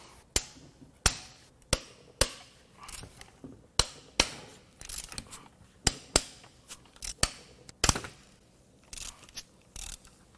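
An impact wrench zips 10mm-headed bolts out of a crashed Victory Freedom 106 Ci Polaris engine in a long series of short, sharp mechanical rattling bursts, close and distinct, with quiet gaps between each bolt.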